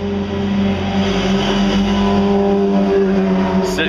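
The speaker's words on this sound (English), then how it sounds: "City noise, not used to that" City traffic rumbles steadily with a car engine accelerating close by, a loud continuous low drone filling the whole stretch with no voices.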